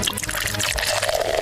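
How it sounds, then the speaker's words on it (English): Liquid poured from a bottle as bourbon goes into a glass, a steady trickling stream running close and fairly loud for a moment, with faint talk underneath. "Pour a bourbon."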